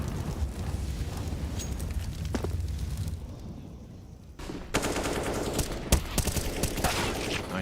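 Counter-Strike gunfire at a pro esports match cracks out in rapid sharp shots and bursts, with one loud report standing out, layered over constant crowd and game ambience.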